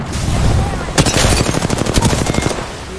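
Automatic gunfire in Apex Legends while playing Lifeline: a dense, loud stream of rapid shots that starts about a second in and keeps hammering, over constant background game noise.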